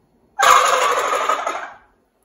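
A single wild turkey gobble, a loud rapid rattling call lasting about a second and a half, against near silence.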